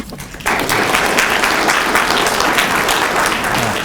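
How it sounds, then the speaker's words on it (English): After a brief quiet moment, loud applause from a sizable poetry festival audience bursts out and continues steadily, dense clapping filling the room. "Let's give these two phenomenal poets another round of applause"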